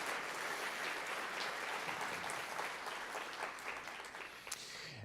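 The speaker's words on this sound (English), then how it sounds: "Let's give them a round of applause." Audience applause at a university faculty and staff all-hands meeting, honoring the College of Education: dense, steady clapping from a large crowd that holds throughout and tapers slightly near the end.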